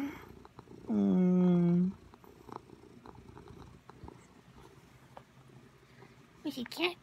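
A happy cat purring softly close by, with a loud drawn-out vocal burst near the start and a person talking gently to it.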